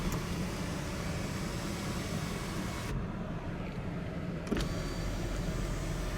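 The sunroof motor of a 2017 Buick Enclave runs inside the cabin, giving a faint, steady electric whir for about a second and a half that stops with a small clunk, under a constant low interior hum.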